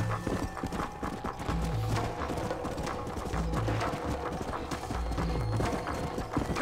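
Hoofbeats of a galloping horse in Red Dead Redemption: Undead Nightmare clop in a steady rolling rhythm, with a whinny rising over a busy game soundscape of music and effects.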